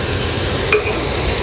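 Garlic and garam masala fry together with onions for biryani: a brief, loud, even sizzle with steady stirring and one small metallic clink, no voices.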